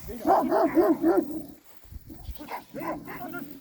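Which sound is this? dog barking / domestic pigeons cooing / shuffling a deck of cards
dog barking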